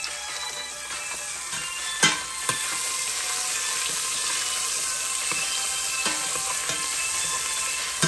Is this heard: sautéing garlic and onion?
yes